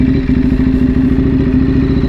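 Motorcycle engine running through a smooth downshift, a loud, close, steady mid-pitched drone with rhythmic pulsing and faint clatter, no voices.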